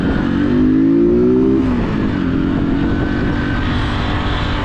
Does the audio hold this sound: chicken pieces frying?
no